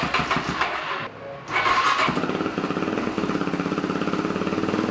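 A motorcycle engine with a new oil check valve, later spraying oil from the top of the motor, cranks, catches after a short gap and settles into a loud, close, rhythmic warm-up idle.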